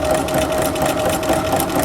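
A sewing machine runs steadily and close up, stitching embroidery thread into belt loops with a continuous rapid mechanical whir and no talking.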